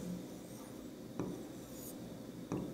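A word being handwritten, soft quiet pen scratching on paper with two small taps or clicks, close and alone with no speech.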